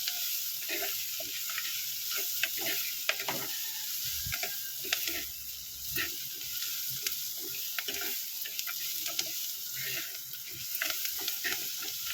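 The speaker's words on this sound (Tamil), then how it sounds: "வெங்காயம் நல்லா சுருள வதங்கட்டும்." Onions sautéing in a pan give a close, continuous sizzle, with frequent sharp scrapes and ticks of a spoon stirring them throughout; nobody talks.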